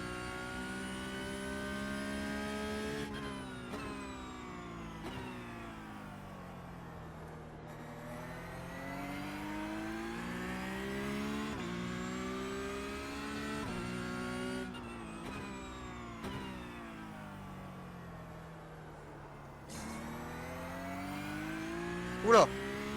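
A race car in the iRacing simulator drones and revs close up, climbing through the gears and dropping back again in long sweeping cycles, with a brief sharp sound near the end.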